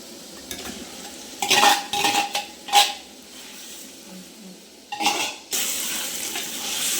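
Soaked chicken masala and tomatoes are stirred in a pot, with intermittent scraping strokes and a soft sizzle between bursts, close and fairly quiet.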